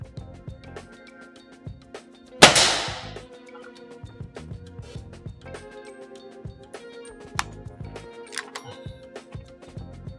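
One sharp, loud crack from a Gamo Hunter 1250 Grizzly Pro break-barrel air rifle firing a JSB Jumbo Heavy Diabolo pellet, standing out against a backdrop of light clicks and handling noises.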